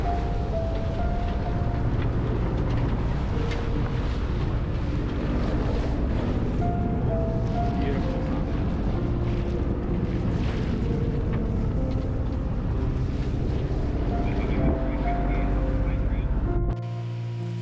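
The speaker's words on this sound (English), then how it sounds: "she's just flying down the coast now with a half-furled headsail and a full mainsail" A sailing yacht running on a beam reach under a half-furled headsail and full mainsail, with constant rushing water and wind buffeting the microphone in a dense, unbroken roar.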